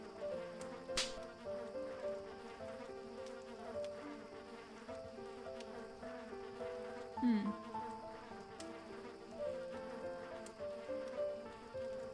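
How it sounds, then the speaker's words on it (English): Insects buzz and drone through a video game scene, a persistent hum with shifting pitched tones and occasional sharp chirps, moderately loud and steady throughout. "Folks out here struggling with these bugs"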